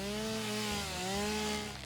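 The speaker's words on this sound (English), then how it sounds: "Where's my chainsaw?" A chainsaw cuts down a tree in the video game Satisfactory, a loud sustained buzzing whine whose pitch dips and rises as it bites in, close and alone.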